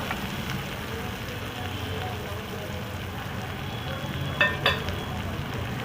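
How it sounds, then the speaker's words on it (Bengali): Chopped onion fries in a pan toward brown for paneer butter masala, giving a constant crackling sizzle close up, with a couple of quick spatula scrapes late on. "এইটাকে একটু ব্রাউন হবার পর্যন্ত ভাজবো।"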